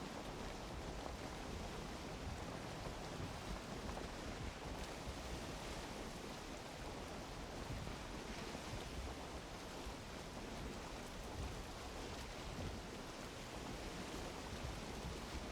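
Steady broadband rush of open sea water and wind as a boat sails across the ocean in the video game Valheim, continuous and even throughout with no talk.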